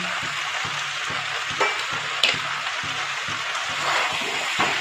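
Mixed vegetables sauté in a pan with a steady, close frying sizzle, broken by regular stirring scrapes and a few sharp clinks, with no talking.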